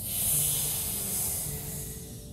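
A soft, breathy exhale hisses out during a yoga cat pose, faint and airy, swelling then trailing off over a couple of seconds with no speech.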